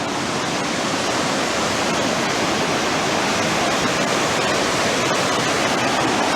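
Hell's Roaring Creek rushing and roaring over its bed in a steady, loud, unbroken wash of whitewater close by, with no voices over it.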